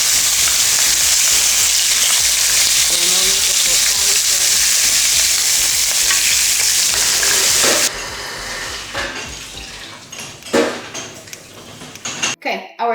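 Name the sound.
steaks frying in a pan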